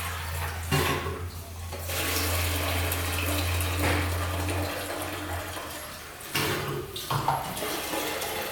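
Gasoline trickles through a motorcycle's petcock and inline fuel filter, a steady near liquid flow with a low hum beneath it, briefly interrupted a few times.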